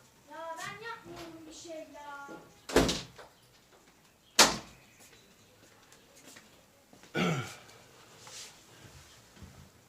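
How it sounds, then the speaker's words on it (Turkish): A door shuts with a sharp, loud slam, one of three solid thuds in the stretch, following some high-pitched playful vocal sounds near the start. "Ben sana bu kapıyı kapat demedim mi?"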